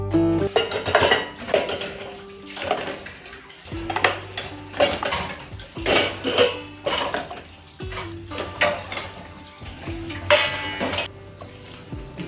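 Dishes, pots and cutlery clatter and clink in a home kitchen sink during washing, with repeated bursts of clanking and some running water heard close up, no talking.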